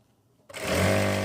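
A sewing machine starts after a moment of quiet and runs in a steady, loud whirring stitch along the seam of a wrap trouser, close up and with no talk.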